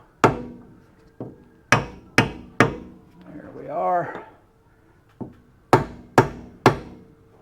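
Sharp hammer blows drive a seal flush into the rear end of a 1965 Ford Mustang, in two bursts of four separated by a brief spoken phrase, ringing close and loud.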